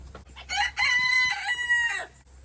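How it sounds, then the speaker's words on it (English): A rooster-like call rings out nearby, a loud drawn-out crow broken into several sustained segments, with quiet background between. "Chickens are making me nervous"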